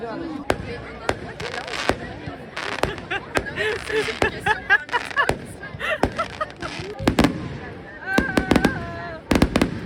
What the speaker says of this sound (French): Là c'est le bouquet final.